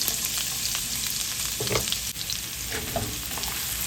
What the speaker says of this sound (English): So on medium heat, just go ahead and fry these for 2 to 3 minutes.